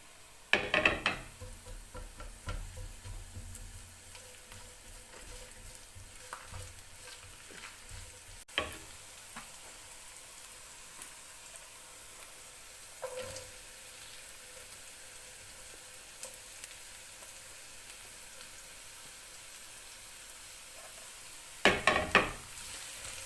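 Onions and carrots frying in oil for a chow mein, a continuous soft sizzle with occasional louder clanks and scrapes of stirring in the pan, no one speaking.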